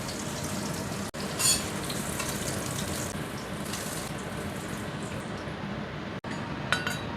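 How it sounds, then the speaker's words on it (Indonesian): Food stir-fried in a pan with garlic, a continuous hiss of frying, brief scraping stirs and faint watery clinks, fairly close, no talk. "Nah, ini tak oseng lagi ya"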